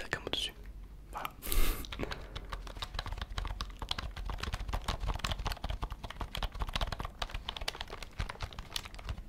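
Close, soft clicking of a computer keyboard during a computer-repair roleplay, rapid irregular keystrokes running throughout after a brief rustle, with quiet whispering at the start.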